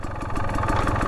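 Husqvarna TE 250 dirt bike fitted with an FMF exhaust and a TSP tune, idling steadily close by with an even low engine burble and light mechanical clatter, no talk.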